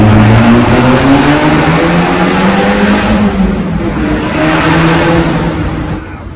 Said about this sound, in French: mais là tu as la symphonie du moteur R